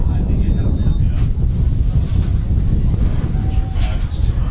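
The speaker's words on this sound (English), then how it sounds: "Right now, wind coming right straight across the field." Strong wind blows across an outdoor high school football field, a loud, constant low roar buffeting the microphone throughout, with a faint tone drifting in the background.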